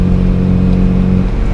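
A 1986 Toyota pickup's carbureted engine runs on the secondaries with the stock exhaust, giving a loud, deep, steady bassy drone with a low throbbing rumble close by, and no talking.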